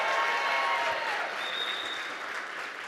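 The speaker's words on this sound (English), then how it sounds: "round of applause" An audience at a military leadership keynote gives a sustained round of applause, dense and steady clapping that fades slightly toward the end, with no speech over it.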